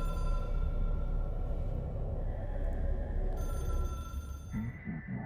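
A telephone rings in the video game Control, a repeating electronic bell heard over a steady low ambient hum, moderately loud, with a short break near the end.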